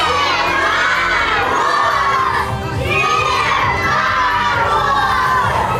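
Crowd of children in a hospital shouting loudly together, calling out for Father Frost at a New Year celebration, a sustained chorus of voices with swelling, repeated calls.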